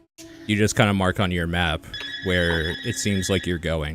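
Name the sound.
telephone ringing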